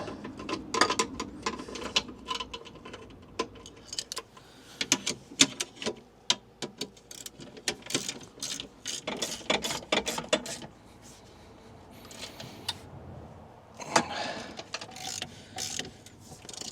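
An adjustable spanner nips up the bolts of a swivel seat base being fitted in a VW Crafter van: close, irregular metallic clicks and ratcheting clatter in uneven bursts, with quieter pauses between turns and no talking.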